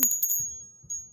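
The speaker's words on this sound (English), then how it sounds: "let's ring it. Let's ring some bells. You can ring the" A small bell is rung, giving a bright sustained ring with a couple of quick strikes at the start and another light strike partway through, close and alone.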